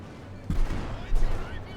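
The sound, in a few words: field gun firing in Company of Heroes 2, video game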